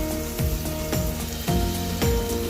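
Tomatoes and onions sautéing in a pan for a chickpea gravy: a steady close sizzle punctuated by regular scraping strokes of a spoon against the pan, about four in a row.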